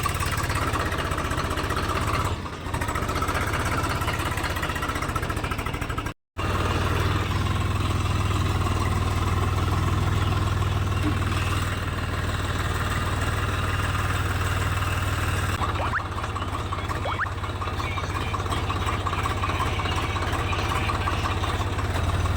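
A Swaraj 744FE tractor engine runs steadily in a papaya field, a loud low diesel rumble with a constant idling drone and a brief dropout partway through.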